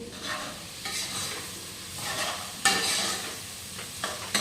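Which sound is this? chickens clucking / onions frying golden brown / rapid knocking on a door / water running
onions frying golden brown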